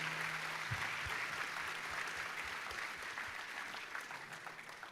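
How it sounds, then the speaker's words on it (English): A ceremony audience applauds with sustained, even clapping from a crowd, fairly distant, with a few sharper claps standing out and no talking. "Give a long applause for them."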